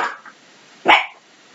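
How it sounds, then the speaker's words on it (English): Carmela the dog barks once, sharp and close, after a brief faint sound at the start. Otherwise the surroundings are quiet. "She barks for everything."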